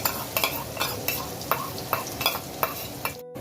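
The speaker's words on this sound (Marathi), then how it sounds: "आता तोपर्यंत कांदा आपला चांगला फ्राय होतोय" Finely chopped onion frying in a pan for pav bhaji with capsicum, a constant sizzle broken by regular scraping strokes of a spoon stirring the pan, close and fairly loud, no voices.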